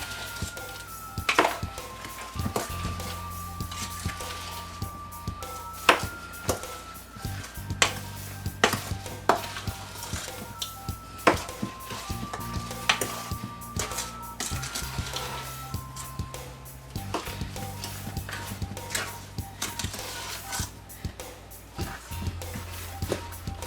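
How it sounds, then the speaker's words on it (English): Goo-Goo, sugar and pecans are stirred together in a bowl for the swirl of a sock-it-to-me cake, giving repeated soft clunks and scrapes of a utensil against the bowl over a steady tonal background. "mix it in with the Goo-Goo, sugar, and pecans"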